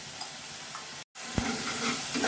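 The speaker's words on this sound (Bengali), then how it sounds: "আবারও ভালো করে একটু কষিয়ে নিচ্ছি" Cumin and coriander paste frying and being stirred in oil for a Bengali fish curry, a steady close sizzle with a sharp break partway through and a single utensil knock, no talk.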